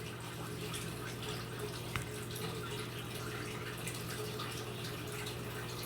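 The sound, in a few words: water splashing from a canister filter outflow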